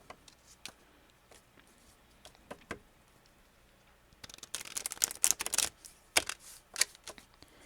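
Brisk riffling and snapping of a card deck, quiet ticks at first, then a dense burst of shuffling and a few sharp card slaps near the end.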